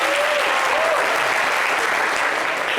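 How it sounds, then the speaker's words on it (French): Studio audience applause on a French talk show, loud continuous clapping from a crowd, close and evenly sustained, with no voices over it. "Ça s'applaudit."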